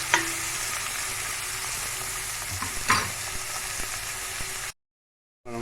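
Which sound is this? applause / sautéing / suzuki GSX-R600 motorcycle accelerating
sautéing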